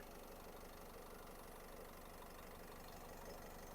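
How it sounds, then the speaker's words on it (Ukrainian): A 2014 Opel Vivaro diesel van's engine idles steadily, a low, even, unchanging hum with no voices and a faint mechanical rattle beneath it. "Як бачимо, двигун працює гарно, рівненько, як годинничок."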